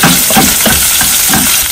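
Chopped onion goes into a hot pan for a coconut-free roasted Kerala sambar and sizzles loudly and steadily, with a few stirring scrapes rising through the close, continuous frying hiss.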